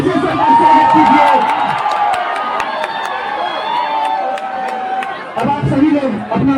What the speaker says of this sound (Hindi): इसी के साथ जोरदार तालियों से फिर से स्वागत कीजिए।